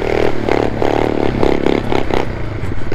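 A homemade snow mower built from leftover parts, its small engine revving hard and steadily while driving through gear changes, loud and close with scraping and clattering throughout.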